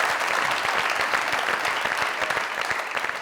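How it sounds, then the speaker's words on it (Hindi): A studio crowd on the Mazaq Raat stage gives Shaan Shahid and Meera a loud standing ovation. The thick, continuous clapping is close and full, easing slightly toward the end, with no speech. "खड़े होके जोरदार तालियां मिस्टर शान शाहिद एंड मीरा जी।"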